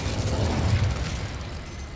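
Fire spell cast in the Hogwarts Legacy game, heard as a dense, sustained whooshing rumble with low crackling energy that holds steady for about two seconds.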